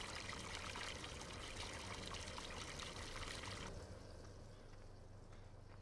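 A tank filling with free water at a water trigger in Farming Simulator 17, heard as a continuous, even rushing trickle and pour that drops slightly in level partway through.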